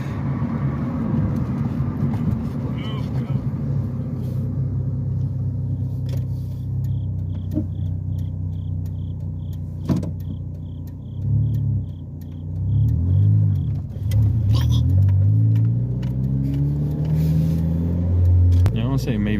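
Manual-transmission car accelerating from low in the cabin, steady engine rumble rising and dropping in pitch across gear shifts, loud and continuous, with a driving lesson conversation going on over it.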